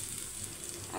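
Dried red chillies and bay leaves sizzle in hot oil in a kadai, giving a brief steady crackling hiss, close and moderately loud, with no voices.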